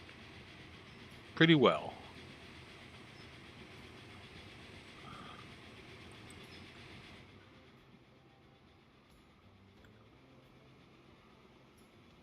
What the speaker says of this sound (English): It is a nice looking train. It's not going that fast